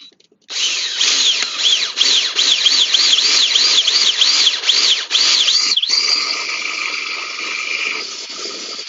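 A power drill with a 7/16 bit whines loudly and steadily, with rising and falling pitch as it bites into material, then drops to a lower, steadier tone before stopping.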